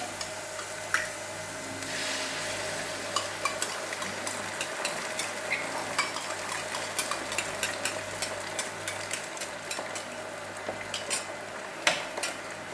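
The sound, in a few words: two eggs frying in a pan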